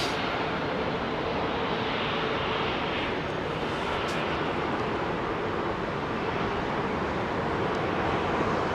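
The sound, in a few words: Boeing 737 taking off from Heathrow runway 27R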